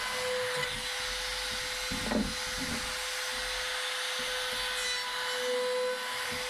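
A router runs a 3/8 radius along the inside edge of a wooden dinghy transom, a steady high whine with a rough cutting rasp as the bit bites the wood.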